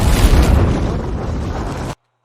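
Loud anime-style explosion of fire and darkness clashing, a dense roaring blast that rumbles steadily for about two seconds before cutting off abruptly into silence.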